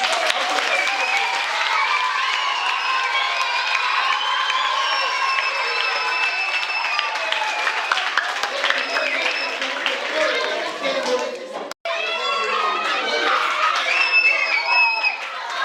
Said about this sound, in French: Et est-ce que vous ne pouvez pas l'applaudir?